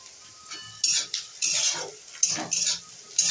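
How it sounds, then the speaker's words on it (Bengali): Onions and vegetables frying in a pan are stirred with a metal utensil, giving a series of clinking scrapes and taps against the pan at an uneven rhythm, close and clear with no talk. "তখন আমার সবজি পেঁয়াজ ভাজছি"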